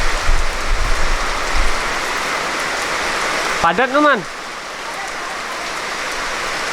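Heavy rain pours down outdoors in a windy storm during night kite flying, a loud steady hiss throughout, with someone talking briefly over it.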